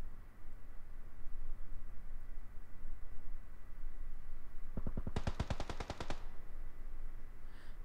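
Automatic gunfire in a PUBG match rattles out as a quick burst of about a dozen sharp shots over roughly a second and a half, rising out of a steady background hiss.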